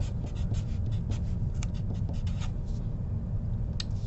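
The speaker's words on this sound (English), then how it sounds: "I write in what I know." A pen scratches out a math equation for a linear-equation slope problem in quick, close, scratchy strokes with short pauses between marks, with no talking.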